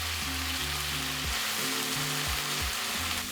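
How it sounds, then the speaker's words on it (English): Kimchi and meat sautéing in a hot pan, a loud, continuous hiss and sizzle that fills the whole moment, with a low tonal hum shifting underneath and no talking. "Let that saute briefly and mix it together."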